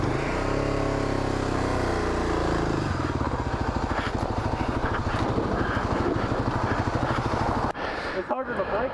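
A Kawasaki KLX 250 rides a single-track trail in first gear, its engine a loud, close, pulsing drone that shifts pitch partway through and cuts off near the end, followed by a brief rustle.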